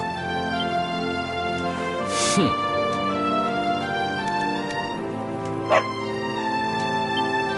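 A dog barks in the Dragon Quest XI video game, a few short yaps mixed in with game music and voiced dialogue.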